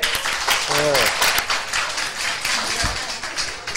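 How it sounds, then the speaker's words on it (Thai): Students in a Thai health education class clap for a classmate, a brisk burst of many hands layered under a voice talking. "ให้อภัยด้วยข้อนี้ดีปรบมือเพื่อนดี"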